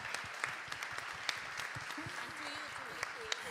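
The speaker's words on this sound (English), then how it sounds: "If I can ask for a big round of applause for our panelists for sharing their insights with us." Audience at a Green City Accord political commitment ceremony claps for the panelists, a moderate spread of distinct, uneven hand claps with a few sharp louder ones, while voices murmur underneath.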